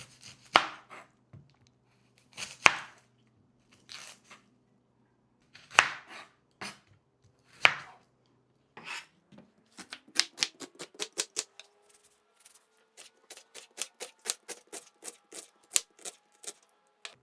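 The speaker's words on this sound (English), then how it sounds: "Let me just do quick chopping." A knife chops onions on a board, first in slow separate strokes, then speeding into a quick steady run of sharp taps.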